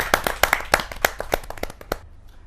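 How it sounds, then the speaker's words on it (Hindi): Audience at a Hindi poetry gathering clapping for a poet being welcomed to the stage, a close rhythmic run of about a dozen sharp claps that tapers off and fades after two seconds. "जा जोरदार तालियों के साथ रसिक गुप्ता जी का।"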